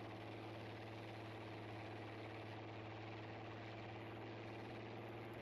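An aircraft engine in the video game Battlefield V gives a steady, droning hum with a constant low tone, the level held even throughout and nobody speaking.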